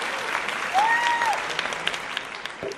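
A podcast audience claps and cheers for a guest introduction, a burst of applause with a whooping voice rising over it, tapering to scattered claps as a voice speaks near the end.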